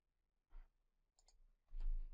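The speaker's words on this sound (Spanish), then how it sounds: "Entonces vamos a hacer un doble clic acá." A computer mouse gives a quick double click at a desk during CAD work, two faint, tight clicks close by, framed by soft breath-like noises and otherwise near-silence.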